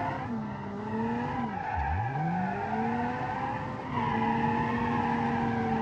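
Tires on a 300 HP lawnmower with semi-slick tires squeal steadily while it drifts and power slides in BeamNG.Drive, a loud continuous screech that bends in pitch as the slide shifts, over engine drone.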